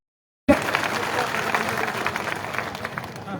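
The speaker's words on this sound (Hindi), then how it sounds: "एक बार जोरदार तालियां हो जाए सबकी।" A crowd at an outdoor public rally on a fairground claps after a short silence, a sudden burst of dense, sustained applause that stays loud throughout.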